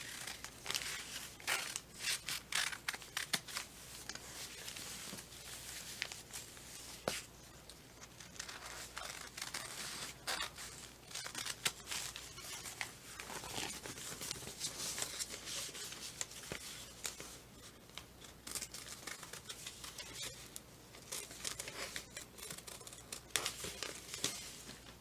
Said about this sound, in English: I'm going to use my scissors and I'm going to cut out that tree